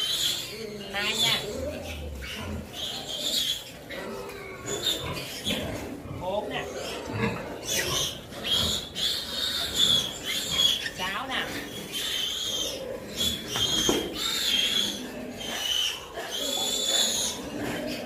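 Newborn piglets in a farrowing litter of crossbred sows squeal and grunt continuously in shrill, overlapping bursts close by, while a person talks over them throughout.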